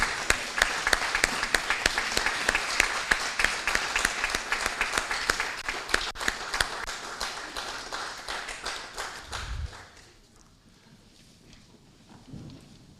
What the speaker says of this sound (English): show them a round of applause of your appreciation